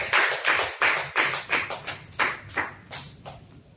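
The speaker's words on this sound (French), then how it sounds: "Applaudissons pour la gloire de Dieu" Rhythmic hand clapping at a church service, a few people clapping in a steady beat, close and fairly loud, gradually softening over a few seconds.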